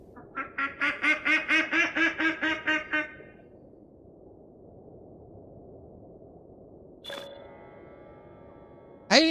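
A teal duck in Lord of the Rings Online quacks in a quick series of about a dozen nasal calls over a steady ambient background, followed by quiet interface clicks.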